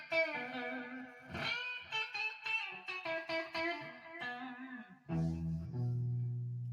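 Electric guitar run through a flanger, a little delay and a natural spring reverb, playing bluesy sustained notes and chords with swirling effect, ending on a louder low chord that rings on.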